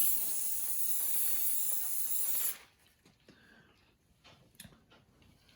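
Rust-Oleum Metallic chrome spray paint hisses from an aerosol can in one loud, steady burst lasting a couple of seconds, then stops, leaving quiet shop ambience with faint small knocks.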